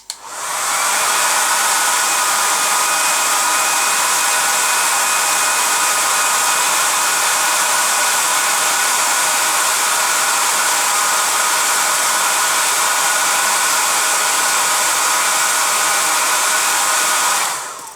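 A hair dryer blows at full power, a loud, steady whooshing roar that starts abruptly and runs unbroken until it cuts off.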